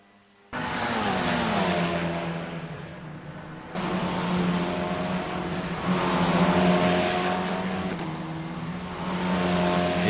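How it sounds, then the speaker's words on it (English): A Formula 4 race car at Bathurst in Assetto Corsa screams loudly, its engine revs climbing through repeated gear changes with short dips between each long rising pull. "You can hear the revs climbing"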